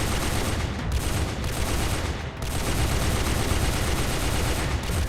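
An M2 heavy machine gun fires sustained, dense bursts with very brief breaks, loud and close, producing a continuous roaring rattle.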